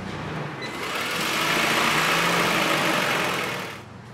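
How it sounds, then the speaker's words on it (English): A 2001-2005 Honda Civic 1.3L hybrid engine idles after an oil change, a steady, moderately loud hum that swells slightly in the middle and drops away near the end. "We're gonna let the engine run for about 30 seconds."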